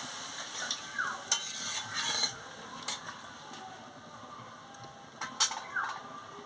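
Water goes into a pan of magur catfish curry, giving a soft sizzle and frying hiss, while a spoon stirs and scrapes against the pot in irregular strokes, quiet and close.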